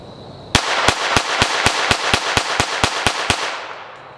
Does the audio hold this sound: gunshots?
yes